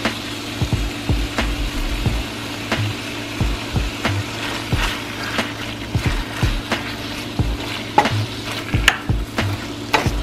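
Butter sautés in a pan with a steady, soft sizzle, broken by repeated scraping and tapping from stirring, and no voices.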